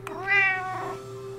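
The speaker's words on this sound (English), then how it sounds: "Cat meows like this." A single clear cat meow, close and fairly soft, rising then falling in a drawn-out wavering call that fades after about a second.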